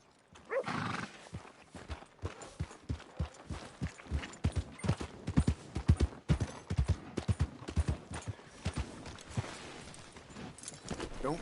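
Horse hooves clip-clop in a brisk, steady rhythm in Red Dead Redemption 2, close and clear, with a whinny near the start and the gait continuing evenly throughout.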